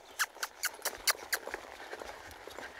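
A young horse loping in an arena gives soft, rhythmic hoofbeats, a steady three-beat pattern of thuds heard faintly and fading slightly over the few seconds.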